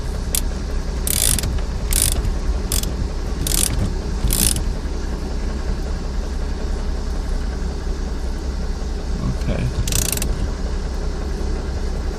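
A ratchet tightening a bolt on the steering wheel of a 2001 Lincoln LS during a clockspring replacement, several short bursts of clicking at close range over a steady background hum.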